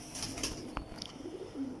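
Hira Lal pigeons give a soft, low coo close by among faint rustling and a few brief flutters.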